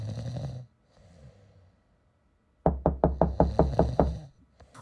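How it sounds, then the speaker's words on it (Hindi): Someone bangs hard on a house door at night, making a rapid, loud run of about nine knocks that rattle the door latch. The knocks stand alone, preceded by a soft low rustle. "दरवाजे की कुंडी जोर जोर से खड़खड़ाई"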